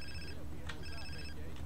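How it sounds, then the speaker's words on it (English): A cell phone rings in GTA San Andreas, a short electronic ringtone of repeating tones, fairly quiet, with faint background sound beneath. "Do I answer my cell phone?"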